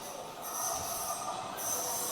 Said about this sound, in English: another Green Line train coming in